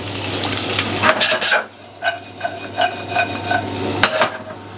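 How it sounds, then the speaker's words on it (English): A pan of almonds with butter, sugar and oil is shaken and stirred, giving close metallic scrapes and light clinks in irregular bursts over a steady low hum, with a faint sizzle underneath. "Shake the pan to make sure the butter and the sugar and the oil get mixed in."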